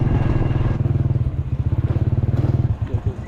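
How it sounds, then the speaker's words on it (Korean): A small buggy car engine putters and clatters nearby with a rapid, throbbing idle, with faint background voices. "저기 버기 카들이 많이 있네"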